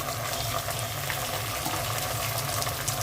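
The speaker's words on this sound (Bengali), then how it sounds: "পেঁয়াজটা হালকা ভেজে নিলাম এখন আবার একটু পেস্ট দিয়ে দিচ্ছি" Onion and spice paste sizzle steadily in a pan while cooking a fish-head muri ghonto, a continuous close hiss and bubbling with no pauses or speech.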